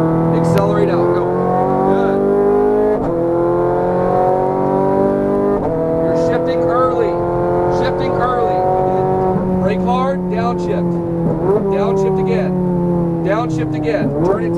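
Ferrari 430 Scuderia accelerating hard on a race track, its engine rising in pitch through several gear changes with brief dips between shifts, loud and close, while a voice speaks over it.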